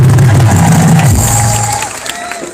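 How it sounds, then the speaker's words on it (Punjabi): An audience at a live Punjabi singing show at a Dussehra fair in Samrala claps and cheers, a loud, dense wash of crowd noise that eases slightly near the end. "ਤਾੜੀਆਂ ਮਾਰਦਾ ਨਜ਼ਾਰਾ ਆ ਗਿਆ"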